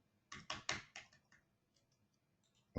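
Keys on a computer keyboard struck in a quick burst of about six clacks, then a few lighter scattered taps, with a louder knock at the very end; no speech.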